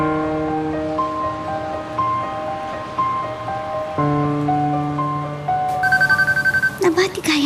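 A cellphone rings in an Ilocano drama scene, its repeating electronic ringtone melody playing steadily for several seconds at moderate level, with a brief burst of other noise near the end.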